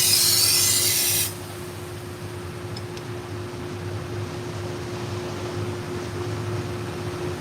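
A dull kitchen knife, previously worn by a drag-through sharpener, is ground with a steady low rasping hum on a sharpening machine, continuous and fairly close after a brief brighter burst at the start.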